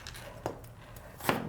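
A kitchen knife chops onion on a cutting board for guacamole. Two or three quick, faint knocks land in a short burst, with no talk.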